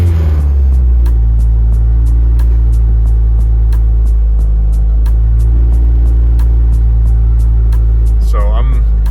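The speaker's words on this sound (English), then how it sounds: "the idle drops back down after I revved it" A 1990 Honda Civic hatchback with a B16a engine idles with a loud, steady low rumble, a short rev surfacing near the end before it settles back; rhythmic ticking runs throughout.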